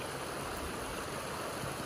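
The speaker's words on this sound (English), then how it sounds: "the smooth, soothing sound of a running creek in Vermont" A running creek in Vermont gives a steady, soft broadband rush of flowing water, even and continuous with no distinct splashes, fairly quiet and heard alone.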